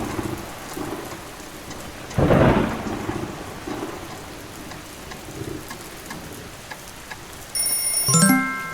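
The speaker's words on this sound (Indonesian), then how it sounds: "aku adalah guntur atau biasa disebut petir" Thunder rumbles through a heavy downpour, with one loud crack-and-roll early, softer rolls after, and another strong rumble near the end over steady hissing rain.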